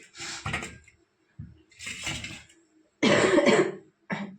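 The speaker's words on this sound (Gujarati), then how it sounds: "એક આ શરદી ઉધરસ નથી મટતા।" A person coughs several times in short bursts, with brief pauses between them, close by in a quiet room.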